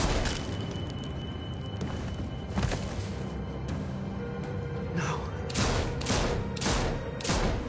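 Gunshots ring out in The Walking Dead: The Final Season, with several sharp, loud bangs standing out near the end over a rumbling, noisy game soundtrack.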